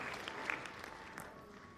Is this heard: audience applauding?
yes